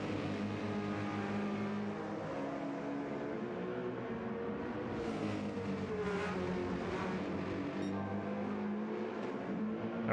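Several GT race cars in an iRacing GT race roar steadily along the track, a dense continuous engine drone with shifting pitch as cars pass, loud and unbroken, with no talk over it.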